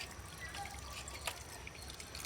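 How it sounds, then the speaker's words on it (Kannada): Water is poured onto the soil around a betel leaf vine, a faint, steady trickle with a few soft drips, quiet and close. "ನಾನೀಗ ಈ ನೀರನ್ನು ಕೆಳಗಡೆ ಹಾಕೊಂಡ್ಬಿಡ್ತೀನಿ"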